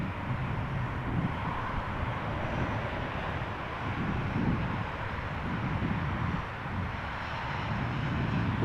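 A Transavia Boeing 737-800 rolls out after landing at Amsterdam Schiphol, a distant, soft jet rumble mixed with wind buffeting on the microphone, fairly quiet and steady, with no talking.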